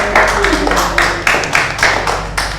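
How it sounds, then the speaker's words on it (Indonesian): A class of students claps in a classroom for the winning discussion group, a loud, close burst of hand claps that pulses in uneven waves over a low steady hum. "Beri tepuk tangan kelompok"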